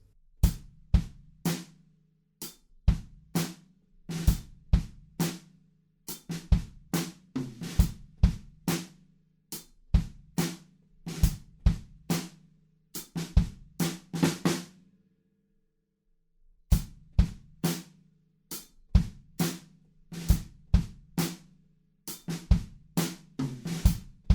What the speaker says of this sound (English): we're just playing quarter notes on the hi-hats and it's a really kind of spaced